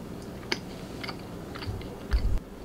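A hot slice of fresh homemade bread from a new loaf being chewed close up, soft repeated mouth sounds with a few brief louder bites and crunches near the end, no talking.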